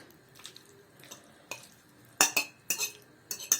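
A spoon turns chicken breast through a lime fajita marinade, giving several short wet scraping clinks against a bowl in loose bursts, close and moderately loud, with no talking.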